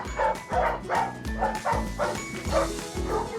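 Many dogs at a kennel holding about 80 dogs, barking in a loud, close, continuous chorus of overlapping rhythmic barks and yips.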